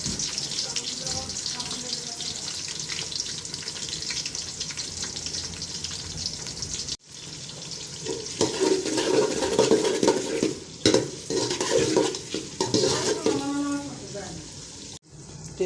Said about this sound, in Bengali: আর এই তেলের মধ্যে দিয়ে দেব পেঁয়াজ,